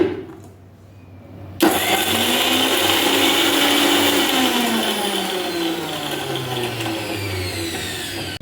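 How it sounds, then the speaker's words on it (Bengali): An electric mixer grinder starts abruptly after near silence and runs with a steady loud whir while grinding ginger and garlic into paste, the pitch slowly sagging and rising under the load. "প্রথমে আমি আদা আর রসুনটা মিক্সিতে ভালো করে গ্রাইন্ড করে নেব"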